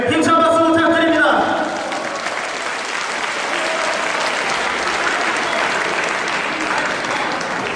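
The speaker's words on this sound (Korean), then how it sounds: "우리 한재 솔로야 선수를 위해 힘찬 박수 부탁드립니다" Sustained crowd applause in an arena fills the room for a kickboxing fighter at a world championship bout, starting under an announcer's voice and amplified music, then continuing alone as a steady roar of clapping.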